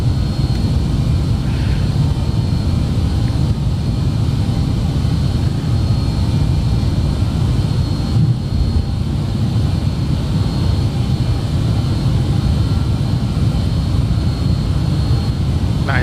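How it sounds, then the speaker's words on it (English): A BAe 146 jet airliner in a flight simulator climbs after takeoff from Liverpool, giving a steady, loud, broadband engine roar that holds constant throughout with no break. "136 knots is V1. Rotate. And we're airborne."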